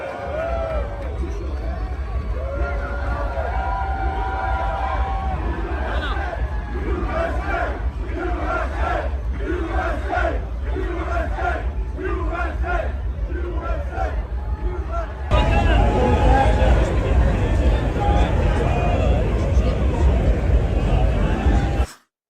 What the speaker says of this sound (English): take a look at the reception President Trump received at the Formula One Miami Grand Prix